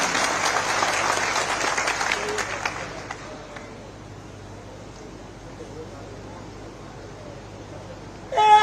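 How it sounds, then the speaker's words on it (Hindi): Applause from a crowd at an outdoor political rally in the Una assembly constituency of Himachal Pradesh, loud and dense clapping at the start that fades into a low murmur, with a short burst of noise at the very end. "ये ताली आपकी अपने लिए होनी चाहिए, जोर से होनी चाहिए"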